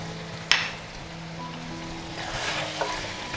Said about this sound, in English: Last, we are going to add the kaffir lime leaves.